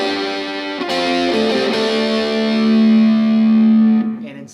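Distorted electric blues guitar lick, a bluesy phrase slid up a whole step over a backing track, with heavy effects and chorus, loud and sustained, ending on a long held note.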